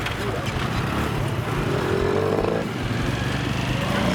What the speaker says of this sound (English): There's motorbikes everywhere.